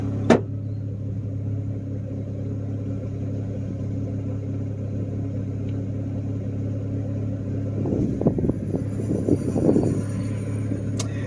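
Turbocharged Honda Accord driving with a low steady engine hum and road rumble inside the cabin, rising into a rougher revving stretch near the end, no talking.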